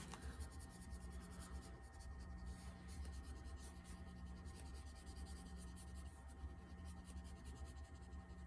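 Prismacolor colorless blender marker, alcohol-based, rubbing over pencil on paper: a soft, continuous close scratchy rub that goes on steadily and quietly without pause.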